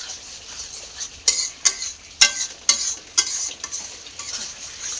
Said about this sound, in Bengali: মশলাটাকে পুরো কষা হচ্ছে।